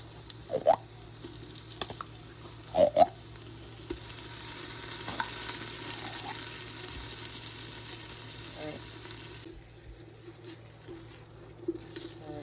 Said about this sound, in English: Just gonna mix this up and let that, I want to say, fry up a little bit, heat up a little bit.